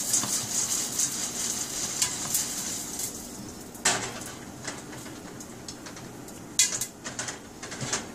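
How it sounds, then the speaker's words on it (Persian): A pot of flavoured popcorn is lifted a couple of centimetres above a gas flame and shaken, giving a continuous scraping, rattling sizzle broken by sharp pops and knocks. "قابلمه را بلند میکنیم به فاصله شاید 2 سانت از گاز و شروع میکنیم به تکون دادن قابلمه"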